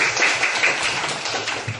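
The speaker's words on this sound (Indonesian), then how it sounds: "tepuk tangan dulu untuk kelompok 1" Classroom applause for a student group after their presentation, a dense steady patter of many hands clapping close by for under two seconds.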